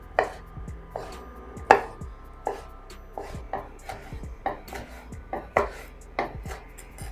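A knife chops smoked sausage on a cutting board into small pieces for pea soup, crisp sharp thuds landing one after another at a steady, unhurried pace, close and alone with no talk.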